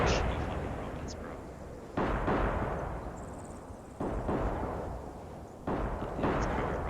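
Rocket impacts and explosions in the Arma 3 military simulation game, three heavy booming blasts roughly two seconds apart, each with a long rumbling decay, loud and close.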